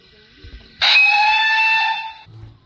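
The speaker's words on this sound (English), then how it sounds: "Close up on the whistle." A Thomas the Tank Engine steam whistle gives one clear, sustained toot of about a second and a half, loud and close, starting abruptly and fading at the end.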